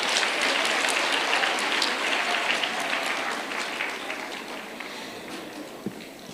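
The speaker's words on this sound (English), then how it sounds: "A huge round of applause for Sharifa Keshajvi" A crowd applauds an award recipient at a Girl Guides centenary celebration and World Thinking Day event, the dense clapping loud at first and gradually thinning and fading toward the end, with one sharp knock near the close.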